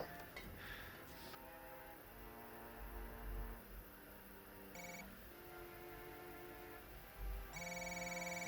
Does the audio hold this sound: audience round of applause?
no